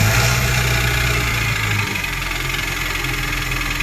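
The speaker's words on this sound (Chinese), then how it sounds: "发动机传出咔啦咔啦的异响声" A car engine idling just after a cold start, with a steady mechanical rattle and knock running through the loud, continuous drone. The fault is a clattering noise that commonly appears after about 70,000 to 80,000 km and is linked to oil burning.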